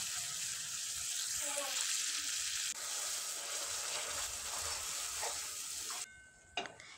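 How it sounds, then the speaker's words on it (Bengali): Tomato paste goes into spiced masala frying in oil for a rohu fish curry, setting off a steady broadband sizzle with stirring scrapes that runs for several seconds, then cuts off abruptly near the end, leaving a few faint knocks. "আমার মশলা কষানো হয়ে গেছে, দিয়ে দেব টমেটো পেস্টটা।"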